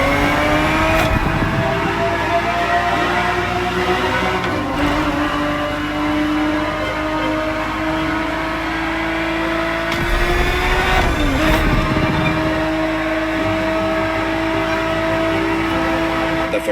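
A Ferrari 365 GTB4 in The Crew Motorfest drives steadily with a loud, sustained engine drone, pitch rising and dipping through gear changes, under a narrator's voice.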